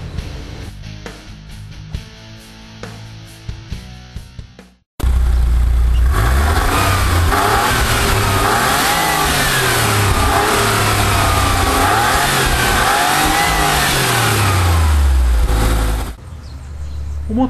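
After a short stretch of music, a Porsche 993 Turbo's 3.6-litre twin-turbo flat-six engine revs hard several times, its pitch rising and falling loudly, before music returns.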